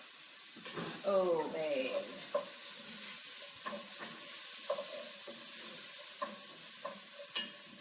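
Leeks fry in a pan with a soft, continuous sizzle, broken by clinking and scraping stirring sounds. A voice briefly speaks near the start.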